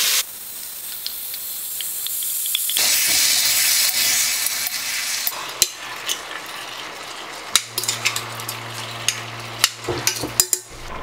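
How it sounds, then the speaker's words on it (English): Goat meat goes into a pot of hot olive oil on high heat and erupts into a loud, sustained sizzle, with scattered clanks and scrapes from handling that grow more frequent over time. "I have my pot on high. I coated the bottom with olive oil. So I'm just gonna add the meat very carefully."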